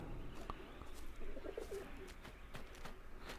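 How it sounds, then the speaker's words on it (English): A pigeon coos a few times in the A Plague Tale: Innocence game world, soft low calls set against a steady ambient background, with no talking. "Sounds like there's a pigeon."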